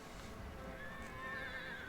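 A horse neighs and whinnies against a steady background hum, with clip-clop hoofbeats mixed in, in a fantasy tabletop roleplaying session set among animals heard in the distance.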